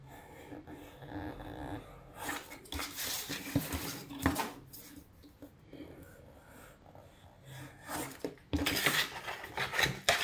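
Scissors or a blade cut through a boot lining, sewn to the leather upper, in rough rasping bursts around the middle and again near the end, close and moderately loud, with a voice speaking intermittently.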